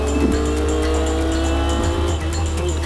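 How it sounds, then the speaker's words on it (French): A Lancia Stratos rally car's Ferrari engine roars loudly and steadily at high revs on the Tour de Corse Historique, with brief tire squeal and shifts in pitch as it races along. "La Stratos et le moteur Ferrari rugissent."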